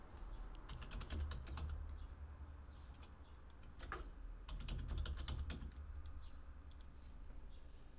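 Typing on a computer keyboard into the Windows search box: quiet bursts of quick key clicks in a few short runs with pauses between, over a faint low background hum.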